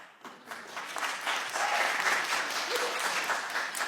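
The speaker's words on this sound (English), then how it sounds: "The audience will please refrain from applause" Audience applause erupts during a congressional hearing, a dense, sustained clapping from a crowd that swells after a moment and holds steady throughout, loud and continuous with no speech over it.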